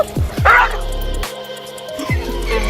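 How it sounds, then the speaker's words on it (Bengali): Dogs yelp and whimper in sharp, close cries after an electric shock from wires, a few quick pained yips spaced across a couple of seconds. "বিদ্যুতের শক খেয়ে কুকুরগুলো চিৎকার করে দৌড়ে পালায়"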